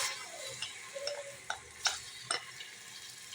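Chopped onion fries in a little oil in a home cooking pot, giving a faint, soft sizzle broken by light clicks and scrapes of stirring.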